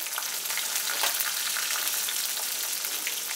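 Chopped onion and slit green chilies fry in a pan with an even, bright, continuous sizzle. Faint stirring ticks sit on top, and no voices are heard.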